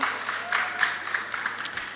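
A small group of meeting attendees claps briefly and unevenly, a thin patter of hands that sounds like only a few people in a large room.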